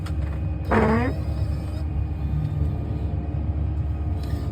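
A tractor pulls a raised seeder away, its low diesel rumble steady throughout, with a brief rising hydraulic whine near the start.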